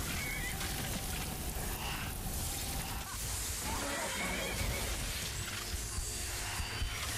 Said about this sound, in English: Oh, my horse is freaking out a little bit.